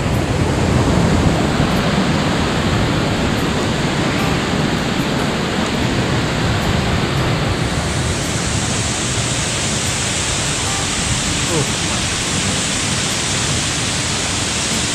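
Ukhalu waterfall near Chandoli Dam: a loud, continuous broadband roar of falling water, steady and close for the whole stretch, with no voices.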